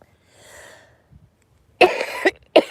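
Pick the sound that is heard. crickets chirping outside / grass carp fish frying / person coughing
person coughing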